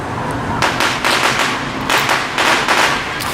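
Fireworks and firecrackers going off on the Fourth of July night in Detroit: loud, dense bursts of cracking pops in quick irregular clusters over a steady crowd-and-street background.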